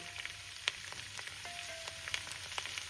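Spring onion stalks fry with turmeric powder in a pan, giving a quiet, steady sizzle with scattered small crackles and pops and no talking.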